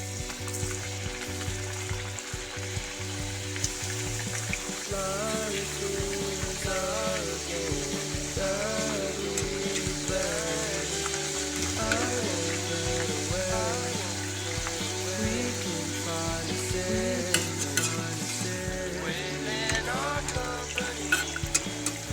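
Jowar flour vadas deep-frying in hot oil, a continuous close, bubbling sizzle with crackling pops, joined by occasional light utensil clinks and stirring.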